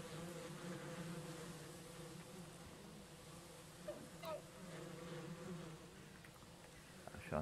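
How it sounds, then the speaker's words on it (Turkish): Bees buzz in a continuous, faint droning hum in the Valheim video game, steady throughout with a few brief soft clicks over it. "burada arı varmış"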